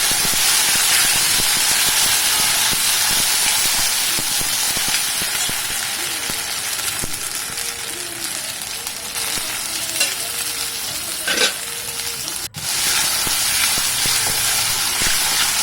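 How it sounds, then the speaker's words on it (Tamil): Ginger garlic paste sautéing in a pan for chicken gravy, a loud continuous sizzle and hiss with stirring scrapes throughout and a sharp clack near the end. "இஞ்சி பூண்டு பேஸ்ட்டும் போட்டு நல்லா வதக்கிக்கிட்டு"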